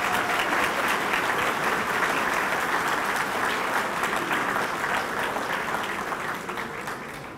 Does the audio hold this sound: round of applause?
yes